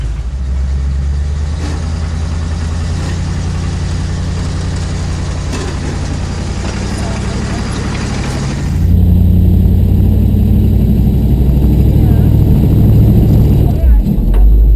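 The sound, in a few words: off-road vehicle engine revving with front tire spinning on rocks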